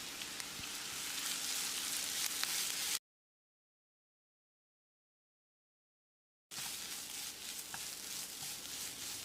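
Ground coconut is stir-fried with onions in a pan, giving a faint, steady crackling sizzle that runs in two stretches separated by a few seconds of complete silence.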